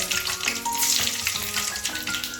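Mustard, cumin and fenugreek seeds crackle and sizzle in hot sesame oil in a pan, a steady close-up frying hiss dotted with small pops.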